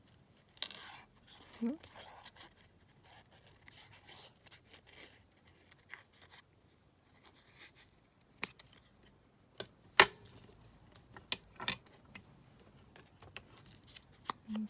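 Scissors snipping a paper rose stem off a 12 x 12 collage sheet, a few sharp separate cuts and rustles of paper spread across a quiet space, with a brief spoken exclamation.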